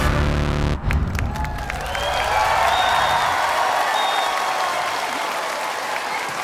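Music cuts off at a live concert and the audience breaks into loud, sustained applause with cheering, a full room of clapping that holds steady to the end.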